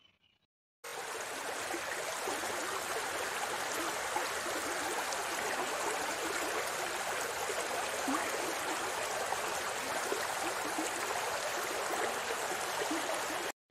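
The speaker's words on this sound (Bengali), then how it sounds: "এই সাইড দিয়ে কি সুন্দর শ্যালোর জল যাচ্ছে" Fresh, cold water from a shallow tube well rushing along a drain in a village farm setting: steady, continuous close-up flowing wash that starts abruptly and holds even throughout, no talking.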